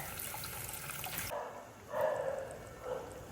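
Water is poured into a pan of sautéed chickpeas in a home kitchen, heard as a soft running splash that breaks off and then returns in a few short surges, faint and with no talk.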